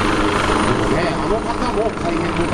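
A fire department rescue helicopter hovers during a water rescue demonstration in Yokohama, its steady loud rotor roar filling the background while people talk over it.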